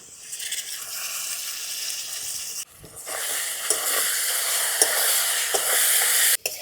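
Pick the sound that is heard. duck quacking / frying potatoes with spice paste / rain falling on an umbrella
frying potatoes with spice paste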